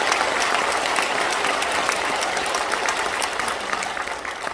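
Sustained, dense applause from a large audience at the Gangwon Special Self-Governing Province launch ceremony, steady and loud throughout.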